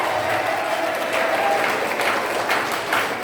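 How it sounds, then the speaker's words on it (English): An audience at an International Women's Day event claps for themselves in a steady, even patter of many hands, moderately loud and sustained with no talk over it. "Now give a big round of applause for yourself."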